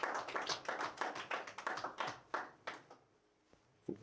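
A church congregation applauds to acclaim the Lord, a dense burst of hand claps for about three seconds that thins out and fades, with a few scattered claps near the end.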